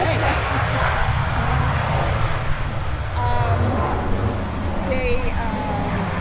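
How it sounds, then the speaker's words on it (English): A jet aircraft passes over an outdoor fair, its steady broadband engine roar filling the whole stretch at an even level while a person keeps talking over it. "We also have a jet going by."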